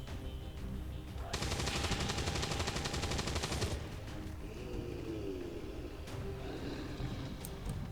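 Gunfire in the tactical strategy game XCOM 2, a loud sustained automatic burst of about two and a half seconds, followed by quieter mechanical and ambient battlefield sounds.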